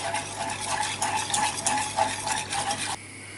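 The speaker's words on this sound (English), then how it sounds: "just slosh it all in and stir" A spoon stirs macaroni cheese sauce in a pan as it heats toward the boil, close rhythmic scraping and sloshing strokes repeating about twice a second, then stopping abruptly near the end.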